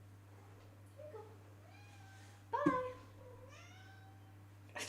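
A pet cat meows several times indoors, short rising and falling calls close by, one louder and sharper than the rest, with a person talking quietly between them over a steady low hum.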